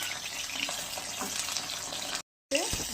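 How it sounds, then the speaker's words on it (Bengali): Tilapia fish fries in spiced oil, giving a continuous close, hissing sizzle that breaks off briefly near the end before resuming. "দুটো মাছই আমি এখন ভাজবো, আবার যখন যে খাবে তখন তাকে ভেজে দেবো।"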